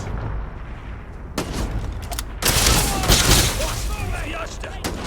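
Gunfire in the video game Starfield: bursts of shots and booming blasts crackle over a loud, dense game soundscape, with a player's voice faintly mixed in.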